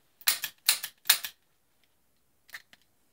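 A revolver's freshly cleaned and lubricated action is worked by hand: three quick, crisp mechanical clatters in close succession, then a pause and two softer clicks, all close and with no talking.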